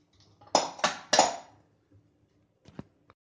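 A pressure cooker lid is unlocked and lifted after the pressure has been let out, giving three sharp metallic clanks in quick succession followed by a few faint clicks.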